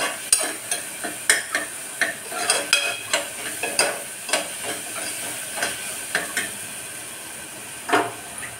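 Soft tomato and onion pieces for a potato curry stirred in a pan, a steady run of scraping spoon strokes over a low sizzle, close and moderately loud, with no talking.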